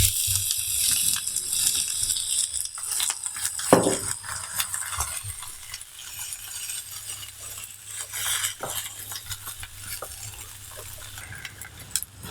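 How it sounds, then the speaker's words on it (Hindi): Onions frying in cooking oil for a chicken cheese roll masala, a soft steady sizzle with spoon stirring, clinks and scrapes against the pan, close up. "पहले हम प्याज को थोड़ा फ्राई करेंगे।"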